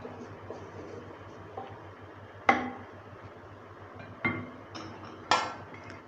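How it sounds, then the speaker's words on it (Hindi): A metal lid is set onto a cooking pot of chicken, with a few sharp clanks and clinks spaced apart over quiet kitchen background. "इसको ऊपर से कवर कर देती हूँ"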